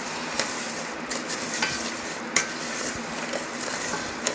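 Dry rice frying in olive oil for Mexican rice, a steady close sizzle broken by scraping stirs and occasional light clinks of a utensil against the pan, with no voices.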